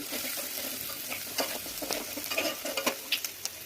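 Onions frying in a pan for a simple potato curry: a close, continuous sizzle broken by quick scraping stirs and small clicks of a utensil, with no talking.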